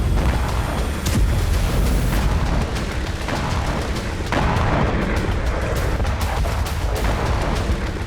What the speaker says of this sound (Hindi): जहां रूस विस्फोटक बनाता था, वहीं यूक्रेनी ड्रोन से हुआ जोरदार धमाका।